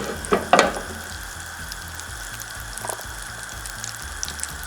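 Butter melting in a pan for a saffron beef dish gives off a quiet, steady sizzle and light bubbling, with a couple of brief louder crackles near the start.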